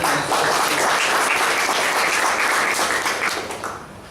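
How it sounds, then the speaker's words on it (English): A room of club members gives loud, dense applause after an evaluation speech, continuous clapping at full strength for several seconds before easing off toward the end. "Give a big round of applause to Vaidyanathan."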